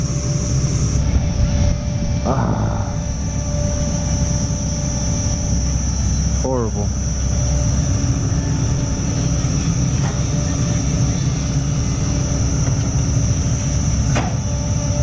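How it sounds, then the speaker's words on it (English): A small boat's steady low engine drone rumbles throughout as it passes, loud and close, with brief voices and scattered clanks over it, on the river between Muang Ngoi and Luang Prabang. "I can hear the boat coming past me right now too."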